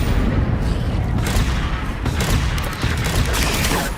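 Loud, dense bursts of blasting and booming fill a video game battle as a fire spell is cast, a continuous rumble of explosive effects with thuds throughout.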